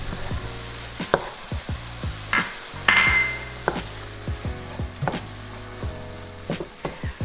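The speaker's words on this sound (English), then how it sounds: "So after adding in the herbs and the garlic, we're letting that cook together" Garlic, thyme and rosemary sizzle steadily in a hot pan, with a bright crackling fry broken by several sharp clinks and knocks of a utensil against the pan, close and clear with no talking.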